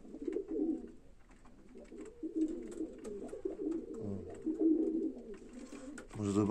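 Pigeons coo in low, throaty bursts close by, with soft rustling and a brief spoken sound partway through.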